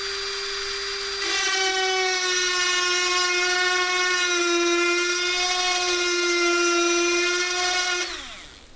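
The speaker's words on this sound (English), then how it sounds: "This is a piece of copper, so let's see what that looks like if we engrave on top of it." An engraving tool cuts into a piece of copper with a sustained high, whining tonal buzz, starting abruptly, holding steady for several seconds, then stopping, close and loud.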